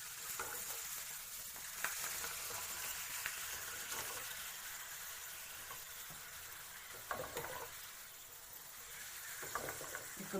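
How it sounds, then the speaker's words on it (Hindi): Papad fries in hot oil with a close, continuous sizzle and crackle, steady and fairly quiet, with occasional brief clinks. "दूसरा पापड़ भी हम वैसे ही फ्राई कर लेंगे।"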